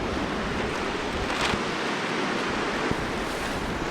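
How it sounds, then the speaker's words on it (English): Wind blows hard across a beach campsite beside the ocean by the front of a trailer, a loud, steady broadband roar with gusty buffeting and no talk. "I'm going to the front side of the trailer, and it's a lot windier over here."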